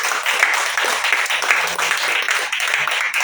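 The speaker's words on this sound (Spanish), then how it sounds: "Denle un fuerte aplauso a Dios" Congregation in a church applauding, a steady dense wash of clapping lasting the whole stretch without pauses.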